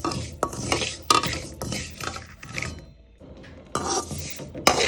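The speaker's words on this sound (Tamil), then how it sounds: "நான் இந்த வெள்ளை எள்ளை நல்லா பொரியிற அளவுக்கு இதை நான் ஃப்ரை பண்ணணும்" White sesame seeds dry-roasting in a pan without oil, stirred in repeated bursts of rattling, scraping grains against metal, with a short quiet pause before the stirring resumes.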